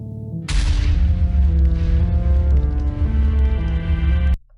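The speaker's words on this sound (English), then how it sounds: "That's some explosion." Loud explosion in Minecraft bursting in suddenly, then a sustained heavy rumble that holds for about four seconds before cutting off abruptly.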